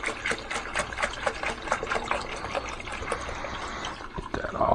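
Concentrated coolant liquid poured from a jug into a tank, a continuous gurgling splash that runs steadily and swells louder near the end, close up and alone.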